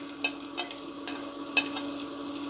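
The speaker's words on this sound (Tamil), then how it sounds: "இப்போ நல்லா ஃப்ரை பண்ணுவோம். ஆயில்லையே நல்லா ஃப்ரை ஆகட்டும்." Capsicum, onion and beans stir-frying in oil for chapati noodles, a close steady sizzle with a few sharp clicks of a spatula against the pan, no talking.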